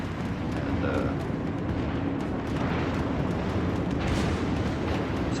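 A battleship blowing up in World of Warships while taking heavy fire, heard as a sustained, loud rumbling roar of explosions with crackling bursts throughout, no voices over it.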